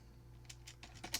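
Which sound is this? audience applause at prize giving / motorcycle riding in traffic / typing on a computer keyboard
typing on a computer keyboard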